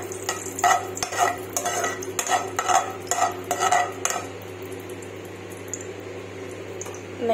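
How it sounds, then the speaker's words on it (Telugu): Bombay rava (semolina) stirred into melted ghee in a pan, with a steady run of rhythmic scraping strokes over a low hum and light sizzle, then easing off into quieter cooking. "ముందుగానే కొలిచి పెట్టుకున్న బొంబాయి రవ్వని ఇట్లా తీసుకుని దీంట్లో మనం వేసి బాగా మిక్స్ చేసుకుందాం"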